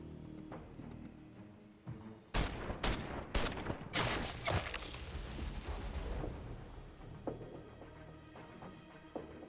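Several sharp gunshot bursts ring out in quick succession from shooting at an enemy in a tactical roguelite RPG played like X-COM, followed by fading rumble and sparse softer clicks.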